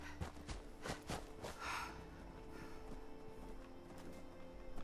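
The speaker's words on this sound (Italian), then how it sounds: "Ah, è la vacca che ci segue." Cow trailing the player in Fallout 76 gives off soft hoof clops and snorting, animal movement sounds that come and go over a steady game ambience, fairly close and moderately loud, with no talk.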